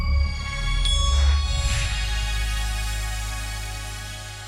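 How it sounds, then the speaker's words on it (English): Xbox One rare achievement unlock notification: a bright electronic chime with shimmering sweeps over a low swelling drone, rising and then fading out over a few seconds, with no talk. "There's a new sound for a rare Xbox One achievement"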